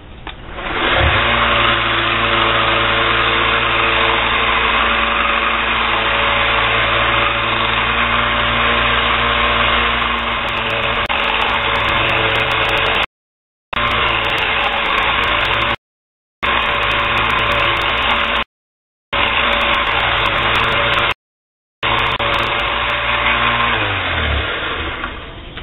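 Belt grinder running with a 400 grit belt while shaping a knife, a loud continuous motor whine with a steady grinding hiss that holds for about twenty-five seconds with a few brief dropouts.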